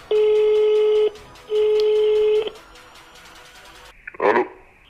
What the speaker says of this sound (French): on va l'appeler